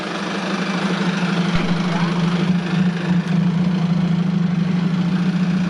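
A six-wheel E-taen dump truck with a turbocharged four-cylinder engine runs steadily at close range, a loud, even drone with a strong low hum throughout and one brief dip near the middle.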